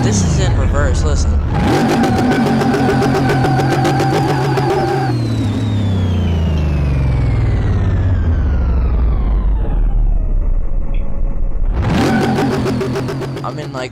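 A car's engine in Car Mechanic Simulator revs hard while driving in reverse, its pitch climbing and falling through sustained loud acceleration with a brief dip near the end, with a voice talking over it.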